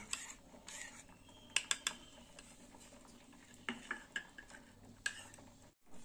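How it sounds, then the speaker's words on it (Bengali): A utensil stirs a spice paste thinned with a little water in a pot, with soft scraping, intermittent sharp clinks of metal against the vessel and quiet pauses between strokes, close and fairly faint. "মশলাটা এবার গুলে নেব"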